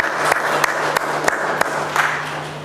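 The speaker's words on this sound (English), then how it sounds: "so maybe we'll clap after each country" Scattered clapping from an audience at the Kampala Art Biennale art, culture and tourism discussion, with a handful of sharp claps standing out over a steady crowd murmur in a hall.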